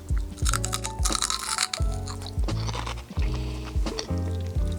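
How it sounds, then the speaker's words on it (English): Crunchy British crisps being bitten and chewed close to the mic, giving a run of loud, dense crunches in repeated bursts over a low, steady background. "they have this bit of crunch, so I can bite into one with that"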